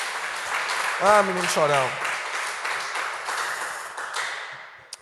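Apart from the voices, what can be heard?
congregation applause in church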